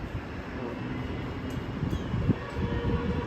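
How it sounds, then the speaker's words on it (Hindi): A Bangalore metro train passes nearby, a steady broad rumble and rushing roar that swells slightly toward the end, heard outdoors. "मेट्रो भी गई सामने से"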